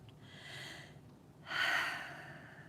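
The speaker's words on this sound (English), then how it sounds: "taking some deep breaths." A person takes deep breaths during a gentle ear massage: a soft, airy inhale, a short pause, then a louder, longer breathy exhale, close and quiet with no talking.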